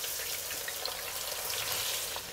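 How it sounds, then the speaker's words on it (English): Eggplant fries in a hot wok during a restaurant-style vegetable stir-fry, giving a soft, steady crackling sizzle with scattered pops that stays fairly quiet and continuous. "Next, we will fry our eggplant."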